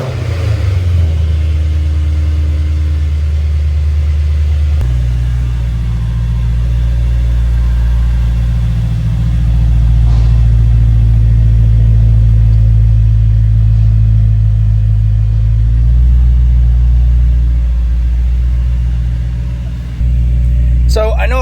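A car out cruising under a Texas sky, its engine a loud, steady low rumble that swells slightly partway through, heard from inside the vehicle.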